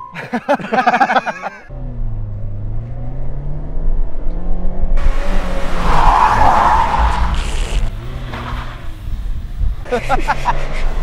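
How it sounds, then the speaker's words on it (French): A car's tires skid and squeal through a handbrake turn, engine revving beneath, with people talking before and after the slide. "On met un coup de frein à main"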